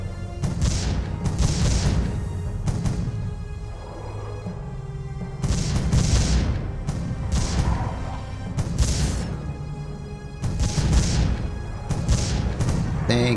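Cannon towers fire repeatedly in the tower-defense video game Defense Grid: The Awakening, heavy booms and crashing impacts in irregular bursts over a dense, continuous game soundscape.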